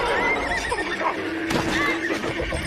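A horse that balks and refuses to go on gives loud, close, shrill neighs, two quavering whinnies with a clatter of hooves between them.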